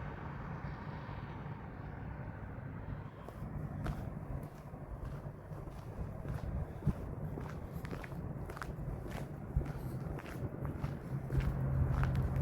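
Footsteps crunch through the season's first snow on a Montreal street in Hochelaga, keeping a steady walking rhythm over low city and traffic rumble.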